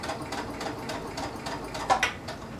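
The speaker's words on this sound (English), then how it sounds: "just let it flow freely through your sewing machine" A sewing machine stitches a tulle skirt, its needle running in a steady, close, rapid rhythmic whir with a brief louder clack near the end.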